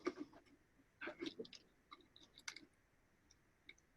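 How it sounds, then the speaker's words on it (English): Needle repeatedly poking through paper during hand sewing, heard as a series of soft, close, irregular clicks and ticks with brief pauses between them. "I like the sound of the needle poking through the paper."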